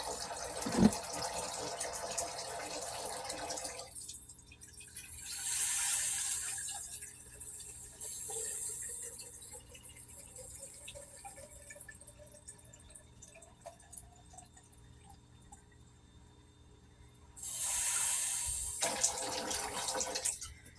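Water runs from a tap into a jar in two bursts of rushing flow, with a quieter stretch of trickling and filling between them; no talking.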